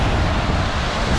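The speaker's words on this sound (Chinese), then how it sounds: "就是前方是3米的瀑布，过去下面看起来应该也是瀑布，狭窄的峡谷" Steady, loud roar of a 3-metre waterfall pouring into a narrow gorge, a dense, unbroken wash of rushing water close by with no voices.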